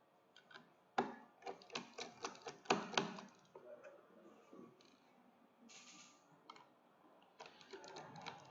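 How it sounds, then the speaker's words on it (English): Small screws being backed out of a hard drive's circuit board with a screwdriver produce a close run of quiet, irregular clicks and ticks, busiest in the middle and picking up again near the end. "Now I'm going to remove all the screws."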